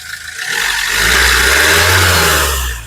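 A 2014 Mahindra XUV500 W6 engine revs up from idle, swelling into a loud, sustained roar, then easing back down, close by with no talking.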